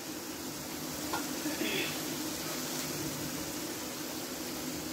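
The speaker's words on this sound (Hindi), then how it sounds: "ये इसको मैंने भुना है घी डाल के" Chicken liver frying in ghee in a pan, a steady, even sizzle running throughout at moderate volume, with no voices over it.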